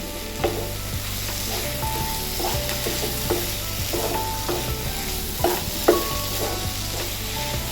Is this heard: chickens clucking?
no